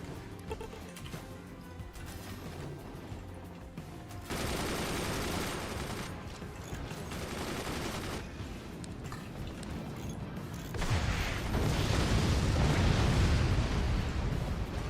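Howitzers and other guns fire in the fort-building battle game Forts, with dense volleys of shots and explosions rumbling on and off at a distance and swelling into a louder barrage toward the end.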